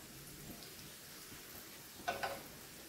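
Tortillas for chilaquiles frying and browning in a pan, a soft, steady low sizzle with two brief sharp clinks near the end.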